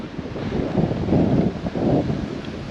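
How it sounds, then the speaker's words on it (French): Strong wind buffets the microphone during a gravel bike ride, in loud, rumbling gusts, a continuous blustery roar rising and falling over a couple of seconds. "toujours beaucoup de vent"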